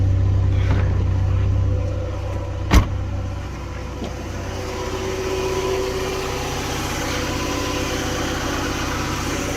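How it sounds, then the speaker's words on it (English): A Volkswagen Golf Mk3 engine idles steadily with a low, even rumble, and a single sharp click sounds partway through, close by. "Well, at least we got the car running okay."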